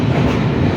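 A train crossing a railway bridge, giving a loud, close, continuous rumble and rattle of wheels with no pause.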